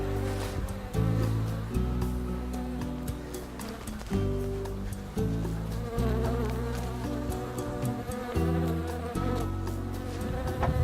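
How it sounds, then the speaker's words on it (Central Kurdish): Honeybees kept on sugar feeding swarm with a steady, dense buzz close to the microphone, the hum swelling and dipping in uneven waves with no voices. "ئەمە هەنگە شەکەریەکانمان"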